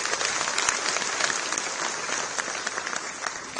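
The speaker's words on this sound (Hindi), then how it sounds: "तालियों की गड़गड़ाहट" Applause at a medical institute ceremony where an official is presented with a memento, a dense, steady roar of clapping from a large crowd, continuous and fairly loud.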